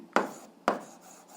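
Two short, scratchy strokes of writing while an algebra solution is worked out, close and fairly quiet, about half a second apart, with no talking.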